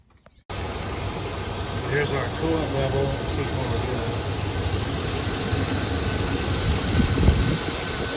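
A car engine with a leaking head gasket idles steadily nearby with a low rumble while someone talks over it.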